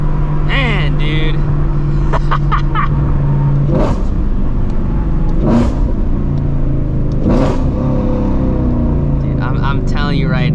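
A Ford Shelby GT350 engine roars loud and close on a late night drive, a constant heavy rumble with rising and falling revs as the throttle is worked.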